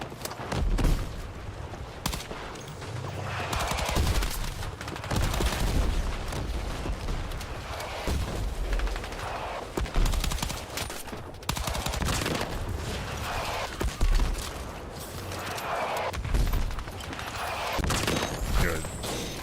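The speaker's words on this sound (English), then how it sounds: "These mortar strikes are insane." Mortar strikes and heavy gunfire in a video game match, with repeated loud booming impacts and dense bursts of shots that continue throughout.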